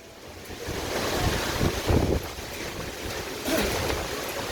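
Strong outdoor wind roars steadily in gusts, buffeting the microphone with low rumbling and broad hissing that swells and eases, loud and continuous with no talking.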